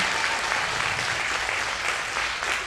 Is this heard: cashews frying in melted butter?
no